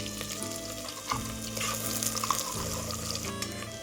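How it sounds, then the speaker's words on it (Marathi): Kolhapuri misal spice masala with curry leaves and tomato fries in hot oil in a pan, a close, steady crackling sizzle with no voices. "मसाला छान असा आपल्याला तेलामध्ये फ्राय करून घ्यायचा आहे।"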